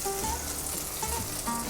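Apple quarters sizzle in butter in a saucepan, a steady close frying hiss with faint spoon scrapes and occasional light pops, no talking.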